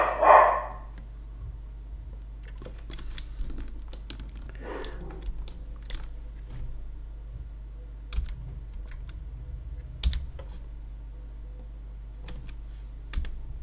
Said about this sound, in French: Ouais, mon chien qui est pas content encore.